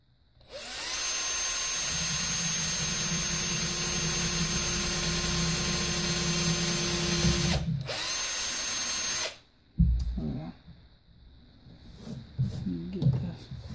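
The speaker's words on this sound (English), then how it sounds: "Let's get the other drilled there." A power drill bores through a brass bullet casing to make headphones, running loud and steady for about nine seconds before cutting out, followed by quieter handling clatter and scraping.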